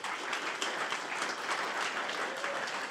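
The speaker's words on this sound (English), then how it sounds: "can we give a big round of applause for Monzo for hosting us tonight?" Attendees at an OWASP London security meetup give a brief round of applause to the host company Monzo, steady dense clapping from a modest crowd lasting a few seconds.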